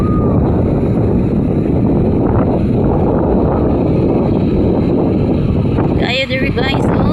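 Strong seaside wind roars steadily and loudly into the microphone, with people talking underneath throughout.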